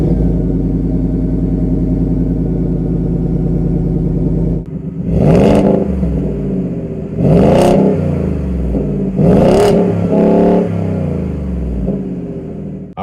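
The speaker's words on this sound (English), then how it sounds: "So let's go with the MBRP system. I'll have you take a listen to what that sounds like." A Ford F150 5.0 V8 with an MBRP exhaust system idles with a steady deep rumble, then revs loudly three times in quick succession, each rev rising sharply and falling back to idle.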